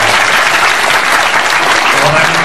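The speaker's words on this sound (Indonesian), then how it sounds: "Tepuk tangan." Dense, steady audience applause fills a tabligh akbar religious gathering in Kutabumi, Tangerang, loud and continuous with no pauses throughout.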